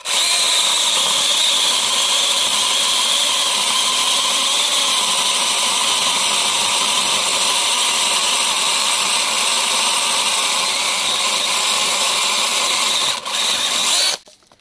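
Battery-powered chainsaw cutting wood, a loud continuous high-pitched motor and chain whine held for about fourteen seconds before stopping abruptly.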